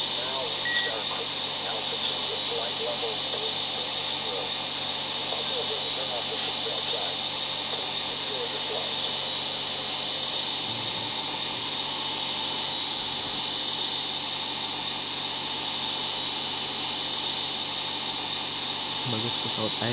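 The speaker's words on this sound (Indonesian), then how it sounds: "Bagus pesawat Air Asia." Air Asia jet airliner engines in Flight Sim 2018 whine and roar steadily, a loud constant turbine drone with a high tone, while radio chatter and a voice talk over it.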